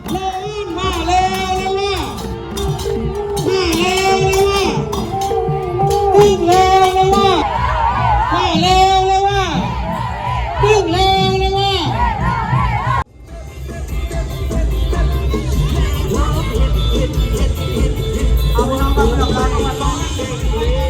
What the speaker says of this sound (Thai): จะมีการโห่แล้วก็โต้กลับกันไปกันมาระหว่างขบวนเรือแล้วก็พิธีกรนะคะ